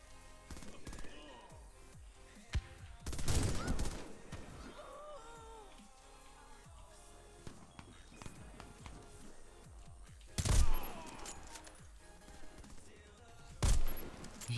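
Several sharp, loud gunshot bursts ring out at intervals over steady background noise of the game Warface in a team deathmatch, with a talking voice.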